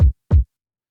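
Two deep, punchy kick drum hits, the second landing about a third of a second after the first, each short with a boomy low thump.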